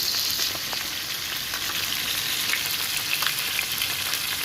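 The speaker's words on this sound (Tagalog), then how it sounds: "meron tayo dito pinipritong isda" Fish frying in a pan of oil, a dense continuous sizzle with fine crackling that stays loud and even throughout, heard up close with no voices.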